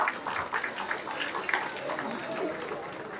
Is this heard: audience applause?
yes